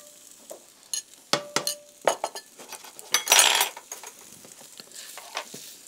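Asparagus stirred in a pan with butter and Parmesan, giving a series of sharp utensil clinks and scrapes against the pan over a faint sizzle, with a brief rustling burst midway.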